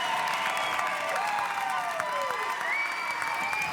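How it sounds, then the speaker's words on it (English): A vocal home crowd cheers and applauds at a Pony League baseball game at Lou Hayes Pony Field in Washington County, a steady, distant wash of crowd noise with a few whistles riding over it. "the home crowd at Lou Hayes Pony Field, this Washington crowd growing quite vocal"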